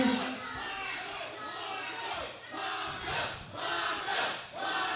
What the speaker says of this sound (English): the crowd clearly behind Paco and Junior X